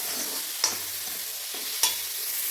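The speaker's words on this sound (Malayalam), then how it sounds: "അതും കൂടി നന്നായി വഴറ്റിയെടുക്കാം" Tomatoes and onions sautéing in a pan for a chicken dish, a steady close sizzle broken by two sharp stirring scrapes, one early and one near the end, with no talk.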